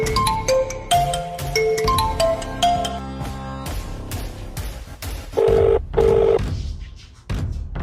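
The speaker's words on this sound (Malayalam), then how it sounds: "സലീമ, ഇതെന്താ ഞാൻ വിളിച്ചിട്ട് ഫോൺ എടുക്കാത്ത?" A phone call goes unanswered: a melodic ringtone of bright beeping notes plays first, then two loud, sustained ring tones repeat close by. No one speaks.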